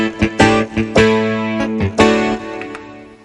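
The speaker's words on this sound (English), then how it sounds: "electric distortion" Distorted electric guitar preset from a keyboard's internal sound bank, several hard-picked crunchy chords in an uneven rhythm, each sustaining with a gritty buzz and the last one fading out.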